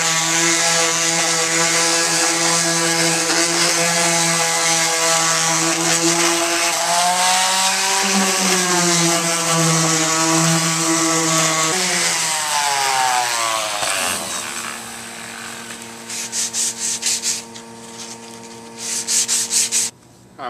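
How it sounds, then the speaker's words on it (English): A power sander whines continuously against wood veneer on a longboard deck, its pitch dipping and shifting as pressure changes, then slowing and rubbing in uneven strokes toward the end. "Be careful not to sand too much through that veneer."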